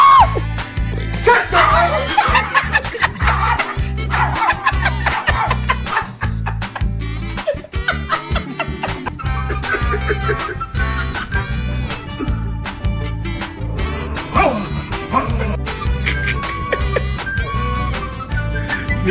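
A Chihuahua's small, high yips and barks recur through dense, loud background music, with some speech mixed in.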